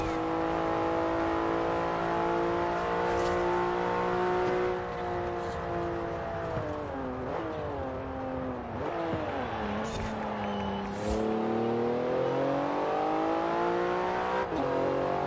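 A Porsche Carrera flat-six of about 444 horsepower in Forza Horizon 4 revs hard through rising and falling sweeps, with gear changes and brief lifts, loud and close, and no talk over it.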